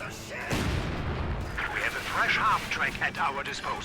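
An MG42 machine gun firing in the WWII strategy game Company of Heroes 2, with rumbling battle booms and gunfire under continuous commentary.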